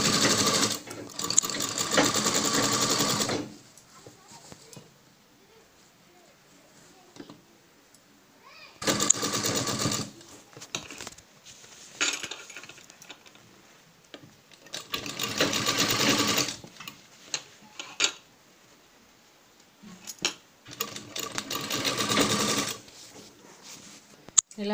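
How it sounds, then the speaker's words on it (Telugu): An electric sewing machine stitching the neckline of a dhoti dress runs in four loud rapid whirring bursts, separated by quieter pauses where a person speaks. "మొత్తం నెక్ మొత్తం ఈ విధంగా స్టిచ్ చేసుకుంటూ రావాలి."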